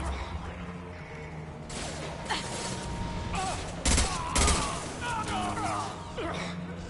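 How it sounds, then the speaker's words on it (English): Dense heavy gunfire in a Mass Effect 2 firefight rattles continuously and close, with sharper crashes and mechanical clatter rising midway, under game voices and scattered electronic chirps. "Taking heavy fire!"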